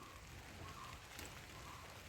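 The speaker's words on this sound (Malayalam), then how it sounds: "മഴ പെയ്യുന്നുണ്ട്, മഴ എന്ന് പറഞ്ഞാൽ മഴയോട് മഴ." Rain falling outdoors over a home garden plot with jasmine and chilli plants, a faint, even, continuous patter and hiss heard at a distance with no voices.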